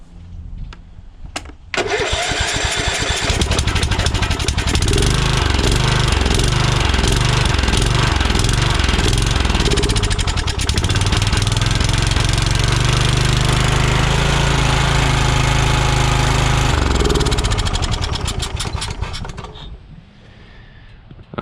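Kohler Courage 20 hp engine on a Craftsman DYT4000 riding tractor cranks, starts and runs loudly and close with a rough, pulsing mid-range roar, holding steady for most of the time before shutting off near the end.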